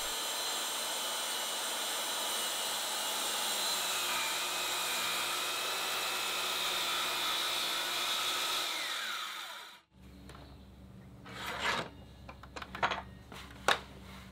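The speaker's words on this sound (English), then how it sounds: "let's fire up the saw and get this last oak plank cut" A power saw plunge-cutting a bevel into an oak plank for a wooden boat, a loud steady motor whine with cutting noise lasting about ten seconds. It stops abruptly and is followed by quieter clatter and knocks as the wood is handled.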